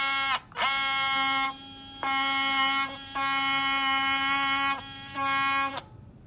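An electric motor driven by PWM whines as it runs on the bench, giving a steady buzzy tonal hum that cuts out briefly several times, with a short gap near the start and a stop near the end.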